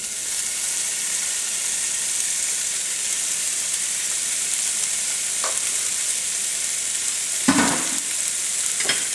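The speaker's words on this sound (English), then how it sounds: "we've got our pan heated up, so now we are going to add in our chopped bacon" Chopped bacon sizzles in a heated pan with a loud, constant frying hiss, and a couple of short clatters and scrapes come later on.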